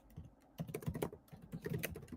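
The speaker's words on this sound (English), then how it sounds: "the way you do that is by basically just typing" Computer keyboard typing heard up close while entering Python code: a quick, uneven run of soft key clicks with a short pause in the middle, no talking.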